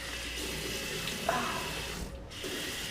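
Tap water streams into a sink as someone rinses after a shave, a steady close splashing rush with a short dip in the flow.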